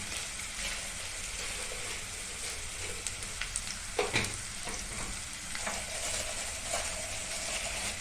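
Kala chicken masala fries in a pan after garam masala is added, a constant loud sizzle broken by a cluster of scraping stirs and spoon knocks midway.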